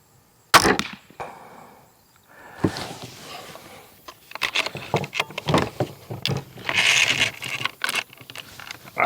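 A TenPoint Venom crossbow looses a bolt with a sharp snap, followed by a series of clattering, rustling handling noises and short knocks close by, with no voices.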